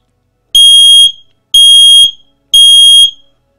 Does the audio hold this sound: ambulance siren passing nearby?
no